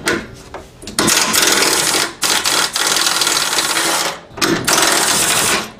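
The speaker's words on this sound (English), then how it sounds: "we'll use our 10 millimeter socket and remove the hardware on top of the cross member" A 10 mm socket on a ratchet backs off nuts on top of the cross member of a Jeep XJ Cherokee during radiator removal, giving dense, close mechanical rattling in long bursts with short pauses between.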